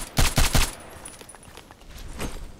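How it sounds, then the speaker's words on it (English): Rifle fire from a DT SRS mk.2 in the shooter game Contract Wars: three sharp, loud shots in quick succession, then a quieter stretch with one fainter shot near the end. "maybe I'm shooting from too far"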